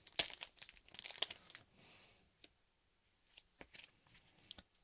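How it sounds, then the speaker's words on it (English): Baseball card packs are torn open by hand, with sharp foil wrapper rips and crinkling in scattered close bursts, broken by brief quiet gaps. "I'm going to go ahead and open these packs for Zach's packs."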